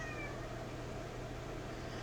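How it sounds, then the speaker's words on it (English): A cat gives a brief meow, fairly faint over a steady indoor background hiss. "Please forgive the cat. They think they're starving."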